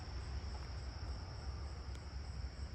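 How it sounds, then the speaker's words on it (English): A tree cricket chirps faintly from somewhere in a neighbourhood backyard, a thin steady high trill running under low outdoor rumble and hiss throughout. "I feel like I hear a tree cricket faintly from somewhere."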